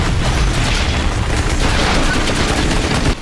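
Loud, sustained gunfire and booms in Outriders, a dense chaotic barrage of rapid shots with no pause, cutting off abruptly at the end.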